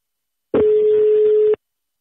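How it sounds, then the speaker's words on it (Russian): A telephone being dialled gives a single steady electronic tone lasting about one second, clean and loud, with silence before and after. "Сейчас мы Ирине будем звонить"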